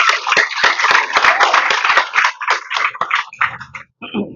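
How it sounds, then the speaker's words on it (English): Dense applause from a press conference audience, steady for about three seconds and then thinning out into scattered claps. "So I think she deserves a round of applause."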